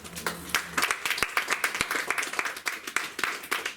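Church congregation clapping and cheering in praise of Jesus Christ during a French-language sermon, a steady run of close, sharp claps with raised voices mixed in throughout.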